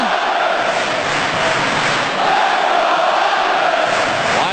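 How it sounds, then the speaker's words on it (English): Lively hockey crowd at the New York Islanders' arena during a 2002 Eastern Conference quarter-final playoff game against the Maple Leafs, a dense continuous roar swelling steadily throughout. "Lively crowd becomes even more lively again."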